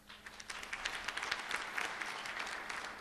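Applause from the audience at a school district board meeting, a steady spread of many hands clapping at moderate distance for the full length, fairly even without sharp peaks.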